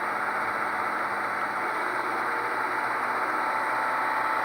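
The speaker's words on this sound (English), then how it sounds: "Okay, so the second engine is turned on." A second diesel genset engine runs at notch 4 through a Soundtraxx Tsunami 2 model-railway sound decoder, producing a steady, even mid-pitched engine drone with no breaks.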